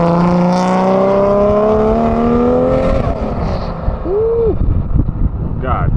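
Loud BMW 3 Series tuner car pulling away from Silverstone, its rising engine note climbing steadily for about three seconds, then a short rev blip with crowd noise and talk around it.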